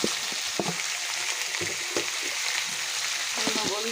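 Brinjal (eggplant) frying in a pan for a vegetarian Bengali dish, with a steady hiss and crackle of oil throughout, broken by short clinks and scrapes of a spatula stirring the pieces, heard up close.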